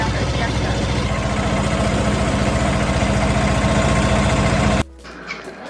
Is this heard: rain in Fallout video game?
no